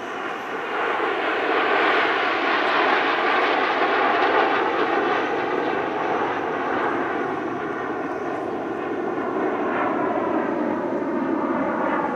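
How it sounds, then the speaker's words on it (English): Seven MB-339 jets of the Fursan Al Emarat aerobatic team at the Dubai Airshow pass in a loud, sustained roar of jet engines, with the tone shifting slowly and no voices over it. "showing Fursan Al Emarat with their 7 MB339s"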